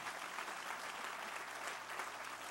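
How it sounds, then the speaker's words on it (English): A room full of people at a groundbreaking event gives a sustained round of applause, an even, continuous clatter of many hands heard at moderate distance with no talking. "he deserves one more round of applause for the extraordinary work that he does"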